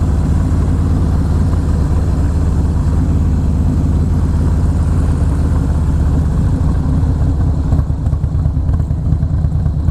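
A steady, deep car engine rumble idling without pause for the whole stretch, loud and close, with no voices.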